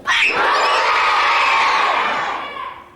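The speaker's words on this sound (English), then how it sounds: "You have to scream Brooklyn." A live audience shouts and cheers together in a loud, sustained crowd roar from a room full of people, swelling quickly and holding steady for a few seconds before tapering off.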